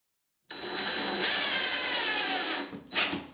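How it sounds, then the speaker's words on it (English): A power drill whirs continuously for a few seconds, close and loud, driving a screw into a wall stud, then slows and stops with a brief final burst as the screw seats. "So I could actually drill this one in, see if it grabs"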